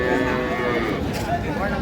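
A cow moos at a dairy cattle market in Ambari, Dinajpur, one drawn-out, fairly close low call over a murmur of crowd voices.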